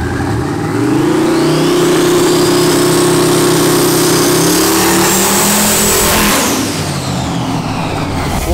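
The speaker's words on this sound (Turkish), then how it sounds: "Oğlum patinaj çekiyor bu dedim." Drag car engine revving hard with wheelspin, a loud sustained roar climbing in pitch over several seconds before easing off, close and without speech.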